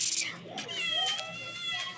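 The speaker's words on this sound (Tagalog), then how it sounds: "pati yung pusa umiiyak na rin" A cat crying and meowing indoors in a family home, several drawn-out wavering meows close by, with faint background noise between them.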